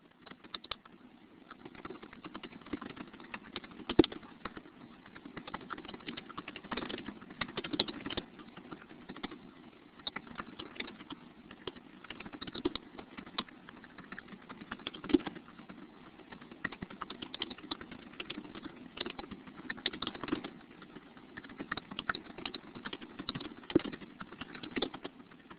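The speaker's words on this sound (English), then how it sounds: "So give me a second here to type some in, and then you can all weigh in." Steady typing on a computer keyboard fills the whole stretch, dense irregular key clicks at close range with occasional louder strikes and no talk over them.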